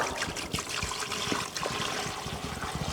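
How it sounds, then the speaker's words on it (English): Water pours into a casting mold form on a workbench, a steady trickling, splashing flow heard close and alone for a few seconds. "So I'm gonna fill it about 3/4 full of water."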